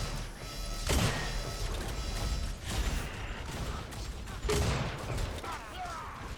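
Gunfire in the arena shooter Unreal Tournament during a competitive match, with a couple of sharp, loud shots standing out over a dense wash of game noise and background commentary.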